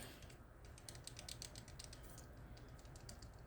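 A Cuda knife and hook sharpener multi-tool rattles faintly as it is shaken, giving quick, irregular light clicks and clatters over a soft background hiss.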